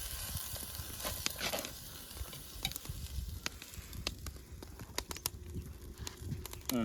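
Cumin and masala being stirred in a pan for vegetable rice: quiet, close sizzling under repeated sharp spatula scrapes and taps against the pan, with a pigeon faintly cooing in the background.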